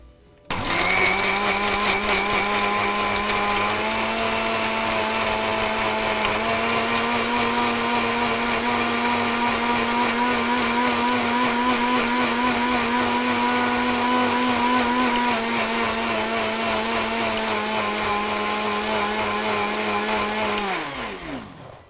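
A countertop blender grinds watermelon chunks, a loud, steady whirring motor roar that holds for about twenty seconds before winding down at the end, with no talk over it.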